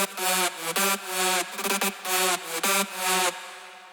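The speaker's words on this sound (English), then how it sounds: "is from Nexus, it's a lead called Recoil" The Recoil lead preset from the Nexus synth plays a punchy, buzzy melodic riff of stabbed notes with quick pitch bends, loud and solo, then cuts to silence.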